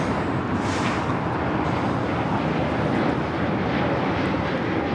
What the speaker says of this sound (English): we got planes out there somewhere. I hear them.